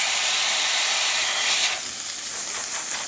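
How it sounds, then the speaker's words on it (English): Steady, loud hiss of a Rocket Appartamento espresso machine's steam wand blasting continuously after a full service, shifting slightly in tone partway through, with no voices. "we're going to test the steam on by just opening it up."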